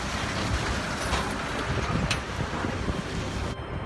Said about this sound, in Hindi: ये भयंकर हवा चल रही है